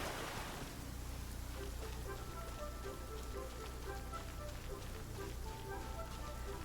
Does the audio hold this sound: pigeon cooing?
no